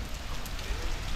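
Rain falls outdoors as a steady, soft patter that holds evenly throughout, fairly quiet, with no voices heard.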